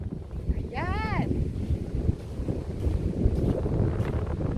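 Strong wind buffeting the microphone on a beach at low tide, a continuous rough roar throughout, with a brief tonal whistle-like sound near the start.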